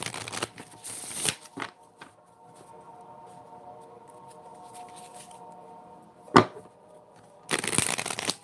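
An oracle card deck is shuffled close by in quick riffling bursts: a long one near the start, a brief one midway and a final longer run, with quiet pauses between.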